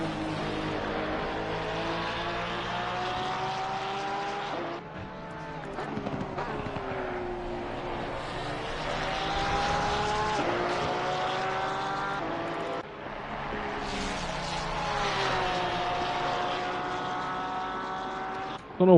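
Race cars roar past at Spa-Francorchamps in a sim racing game during a night stint, engines droning steadily with rising and falling pitch as cars pass, under continuous commentary.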